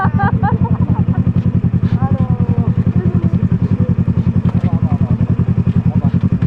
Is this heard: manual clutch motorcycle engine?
yes